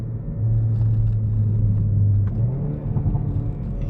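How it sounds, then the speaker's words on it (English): A 2022 Hyundai i30N hot hatch downshifting, its engine note sweeping and settling into a steady low drone with exhaust burbles crackling faintly afterward, heard close and alone. "I'll do a downshift now."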